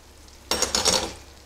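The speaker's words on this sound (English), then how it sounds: "You can hear your bread a-frying there." Bread drops into bubbling butter in a frying pan and starts a sudden, close sizzle that swells and then gently fades.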